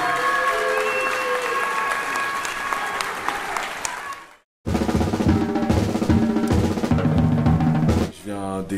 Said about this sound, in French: vainqueur du tournoi avec vos applaudissements au coin bleu, Malik Valo.